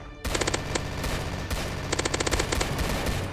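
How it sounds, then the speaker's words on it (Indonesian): An automatic machine gun fires rapidly in the Roblox game Zombie Attack, with loud, close bursts of quick rhythmic shots, a short pause, then another long burst. "senjata ini tembakannya cepet banget. Senjata otomatis paling bagus."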